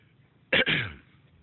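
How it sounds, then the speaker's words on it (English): A single close, harsh cough with a raspy throat-clearing quality, sharp at the start and trailing off, against a quiet background. "I'm sneezing and coughing and have chills."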